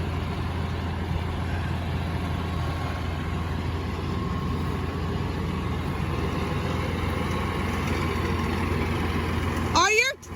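A tractor engine rumbles steadily at close range as it tows a house through a gate on a farm in the evening, a low continuous drone with a brief clatter at the end.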